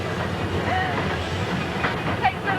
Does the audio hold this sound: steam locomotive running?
yes